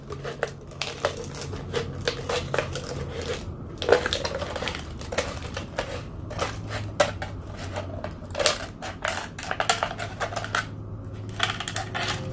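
A knife cutting into a plastic bottle for a flower vase craft gives a series of sharp clicks, taps and crinkles in an uneven rhythm, close up, with no talking.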